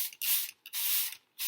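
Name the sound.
spray bottle spraying water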